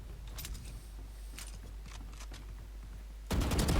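Valorant gunfire: a few sharp, sparse shots ring out against a low game hum, and a louder burst of fire closes the clip.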